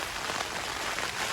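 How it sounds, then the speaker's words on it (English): Torrential rain drums hard and continuously on a tent in the Lake District, a dense close patter with no pauses and no voices. "I have never known rain like this."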